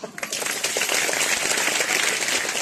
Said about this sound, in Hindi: ताली लगा दो एक बार